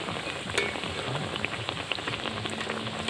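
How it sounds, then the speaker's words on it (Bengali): Aloo tikki burger patties frying in hot oil over medium heat, a dense, close crackle and sizzle with scattered sharp pops, steady throughout and no talk. "তো তেলটাকে ভালো করে গরম করে নিয়েছি আর আঁচটাকে মিডিয়াম রেখে ভাজতে হবে।"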